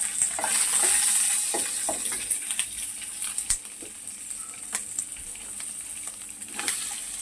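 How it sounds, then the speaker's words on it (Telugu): Green chillies fry in oil in a non-stick pan, giving a loud, steady sizzle close by with scattered sharp crackles and pops and light stirring, with no talking. "ఇప్పుడు మనము పచ్చిమిరపకాయలు, కొంచెం దూరంగా వెళ్ళండి, అవి పగులుతాయి."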